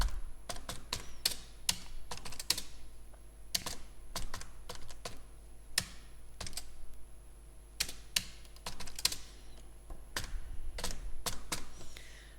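Code typed on a computer keyboard in the Geany editor, a rapid irregular run of sharp key clicks with brief pauses and occasional heavier strokes, close and alone over faint background hum.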